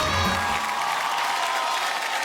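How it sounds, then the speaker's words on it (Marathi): Audience applause at a Marathi TV show gathering, a dense continuous patter of clapping that fills the whole stretch at an even level. "एका जोरदार टाळ्या होऊन जाऊ देत"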